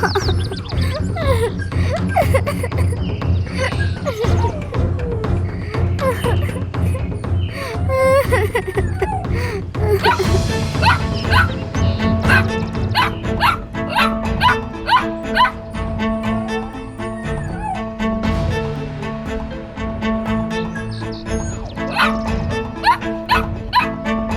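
A dog barks and yips repeatedly in an animated Telugu children's story, loud, busy barking over background music and voices throughout.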